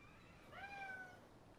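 A cat in a Civilization V game session gives a single clear meow, mid-length and rising then falling, heard close over quiet background.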